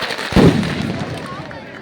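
A single loud firecracker bursts early during a women's throwball tournament and fades into crowd noise, with a voice carrying on underneath.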